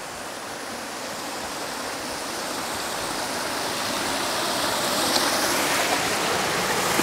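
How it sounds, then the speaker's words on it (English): Water flowing steadily down a trough at a heritage railway watering point, a continuous broadband rush that builds slightly in level, heard alone without voices. "how we can get the water flowing safely down the trough when we want it"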